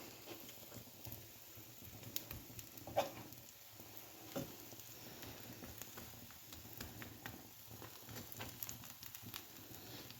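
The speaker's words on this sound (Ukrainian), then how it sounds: "Так, смажемо." A quiet, steady sizzle and crackle of apple pancake batter frying in oil in a pan, with faint occasional pops and clinks.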